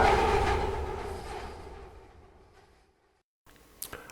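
Train rolling through a Fallout London game world, a loud broadband rumble close at first that steadily fades away to near silence, followed by a couple of faint clanks at the end.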